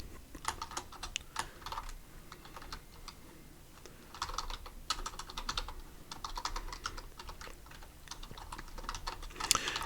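Quiet computer keyboard typing while Java code is written, irregular bursts of rapid key clicks with short pauses between them, close and faint, with no talking.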